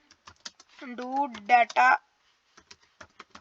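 Light clicking keystrokes on a computer keyboard as a gig title is typed, scattered soft taps before and after someone speaking briefly.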